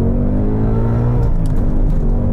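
A 2022 Ford Mustang Mach 1 in race mode launches hard, its engine a loud, dense, close rumble that stays steady throughout.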